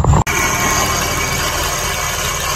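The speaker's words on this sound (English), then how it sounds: "So I'm gonna see what it sounds like when I crank it up." A car engine fitted with a Ripp V6 supercharger kit and a new blow-off valve o-ring starts with a brief crank, then settles into a steady, close idle with a continuous hum.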